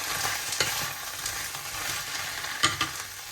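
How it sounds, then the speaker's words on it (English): Mushrooms with garlic paste fry in a pan with a steady close sizzle, broken by a few sharp scrapes and clinks of a utensil stirring, and no talking. "add a little bit of that and get your mushrooms in. Just let them soften down."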